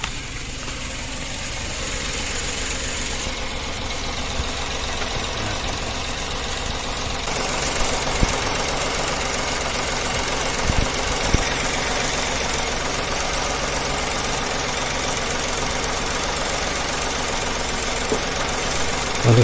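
A Suzuki Every kei van engine idles steadily after about 30 minutes of running, a constant low rumble with a few faint clicks and knocks, close by and with no voices.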